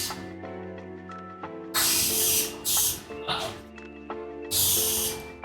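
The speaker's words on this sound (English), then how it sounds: "Might be running out of spray adhesive, guys." A can of spray adhesive hisses in two loud bursts with a short gap between them. There is a trailing sputter, and background music and voices play underneath.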